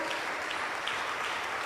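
A church congregation claps hands for the Lord, a dense, steady wash of many hands applauding together without pause.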